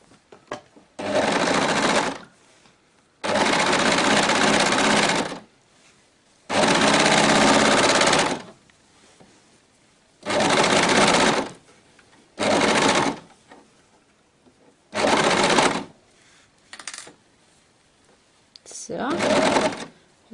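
Sewing machine stitching a seam on leggings, running in loud, close bursts of rapid mechanical chatter of one to two seconds each, stopping and starting repeatedly with quiet gaps.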